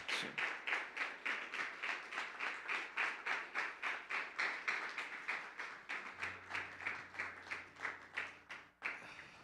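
Sustained rhythmic clapping from a church congregation, steady and fairly loud, continuing for several seconds before tapering off at the end.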